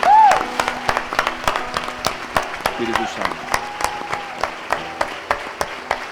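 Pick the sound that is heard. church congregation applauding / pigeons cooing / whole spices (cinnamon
church congregation applauding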